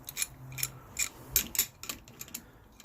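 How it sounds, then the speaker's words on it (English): An 18mm crescent wrench works a bolt on a Suzuki GSXR600 motorcycle, giving quiet, close metallic clicks and scrapes in an irregular rhythm. "open-end wrench, or actually a crescent wrench"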